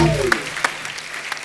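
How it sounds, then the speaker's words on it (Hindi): Short burst of audience clapping at a comedy show, with a voice trailing off at the start as scattered claps pick up and continue fairly close. "एक बार विकी डोनर के लिए जोरदार तालियां हो जाए।"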